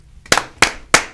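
A live audience claps in unison three times, three sharp evenly spaced hand claps close and loud in quick succession with quiet between them.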